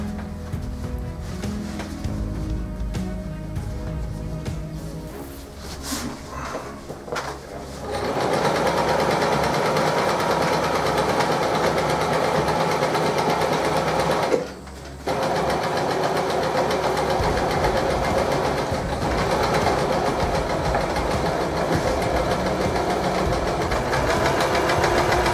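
A sewing machine stitches red flag fabric with a fast, steady mechanical whir that starts and stops briefly near the beginning, then runs continuously and loudly, broken by a single short pause.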